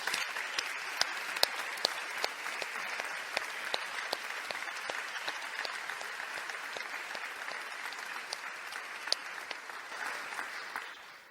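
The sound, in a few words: church audience applause for piano music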